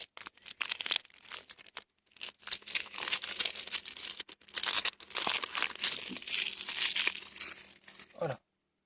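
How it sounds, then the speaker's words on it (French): Plastic packaging is peeled off a Force of Will trading card deck, making close, loud crinkling and tearing in uneven bursts that continue for several seconds before stopping abruptly. "on va déballer le deuxième paquet"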